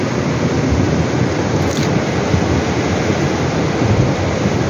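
A violent June 2023 storm hammers rural San Marco dei Cavoti, Italy, with hail, a steady, thick roar of countless stones striking close by, loud and continuous throughout.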